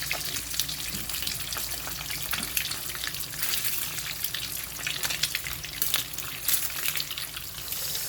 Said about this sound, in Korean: 바싹 익을 때까지 스팸만 먼저 구워줍니다